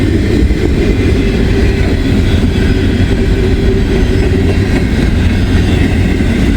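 A loud, steady rumble of an eastbound intermodal freight train slowing toward the Sharonville rail yard, heard up close with continuous rolling wheel noise and a faint clickety-clack, and no talk.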